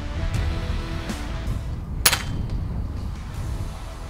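Single sharp crack of an FX Impact Compact air rifle firing an H&N Baracuda pellet outdoors in strong wind, one brief snap midway over steady gusty rumble.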